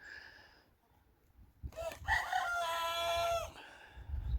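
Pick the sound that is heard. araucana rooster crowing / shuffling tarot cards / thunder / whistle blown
araucana rooster crowing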